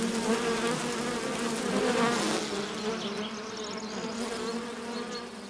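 Honey bees buzz at the hive, a dense, steady swarm drone that swells slightly and then eases, close and continuous with no voices.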